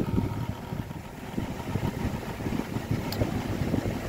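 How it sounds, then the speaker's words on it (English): The motor of a vintage Lakewood model T99 electric fan runs with a low, rough, rattling drone, steady and moderately quiet throughout with no talk. "This motor makes all the racket"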